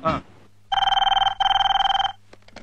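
A telephone rings indoors, sounding as two rapid trilling electronic bursts separated by a short pause, loud and close, with a brief voice just before the ringing.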